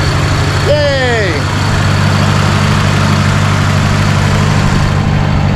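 A Toyota minitruck engine idles after a timing chain repair, a steady low rumble running throughout, with a brief rising-and-falling voice-like whoop early on over the drone.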